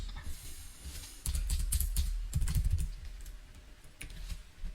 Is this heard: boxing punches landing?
no